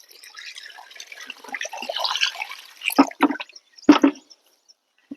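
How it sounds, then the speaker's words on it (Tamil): Water is poured in small splashes onto a termite chicken feed mixture packed with a jute sack, heard as a soft trickle followed by a few close, sharp splashing pours. "அதுக்கப்புறம் கொஞ்சமாக தண்ணியை ஊற்றிக்கலாம்."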